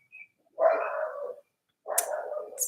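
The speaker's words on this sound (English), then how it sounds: "Sorry, that's my dog's barking." A dog barks indoors in Kenya, a short yip followed by two longer, rough, close barks separated by a brief pause, with no talking over them.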